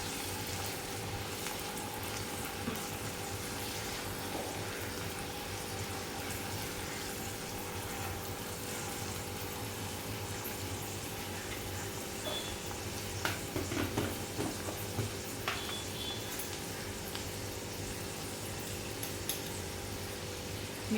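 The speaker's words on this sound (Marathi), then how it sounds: "कांदा गोल्डन ब्राऊन झाला, आपण आता टोमॅटो टाकून घेऊ त्यात. टोमॅटो छान मिक्स करू." Onions and tomatoes fry in a pan for a chicken keema, giving a steady, even sizzle throughout with occasional soft stirring scrapes near the end.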